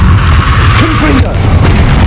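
Confringo explosive spell cast in the video game Hogwarts Legacy, a loud continuous booming blast with heavy low rumble filling the short moment, a brief crackling burst near its middle.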